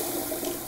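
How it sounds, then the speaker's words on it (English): A toilet flushes with a steady, loud rush of water throughout, close by and alone with no voices, in a comedy trailer. "Is that the flush of a record deal, Ramel?"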